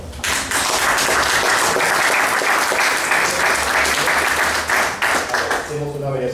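Sustained audience applause at a storytelling and anecdote event, loud and steady for about five seconds before thinning out, with a voice heard briefly at the end.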